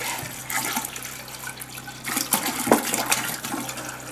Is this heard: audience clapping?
no